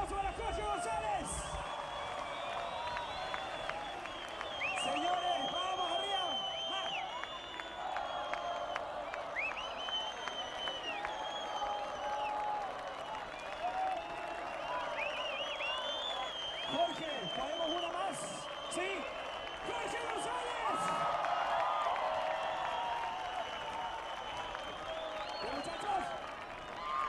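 Concert audience applauding and cheering at a 2008 garage music show in Iquique, steady sustained clapping with crowd noise filling the room and some voices over it.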